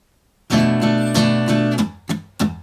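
Strummed guitar playing the bridge of a song, a steady run of bright full-chord strums that ends in two short, clipped hits, played alone with no talking.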